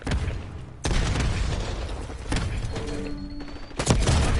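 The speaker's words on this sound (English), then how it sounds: "Concussion grenade out." Concussion grenade blasts in a multiplayer shooter's hardpoint mode, with several booming explosions and sharp bursts spread across the moment and heavy low rumble between them.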